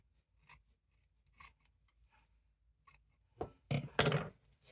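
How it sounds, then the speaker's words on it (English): Scissors snipping away excess sock fabric while making an Easter craft, a few soft isolated cuts followed by a louder, denser burst of close snipping and rustling at the end. "I'm going to trim off some of this excess sock."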